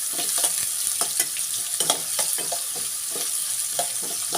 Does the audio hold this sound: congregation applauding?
no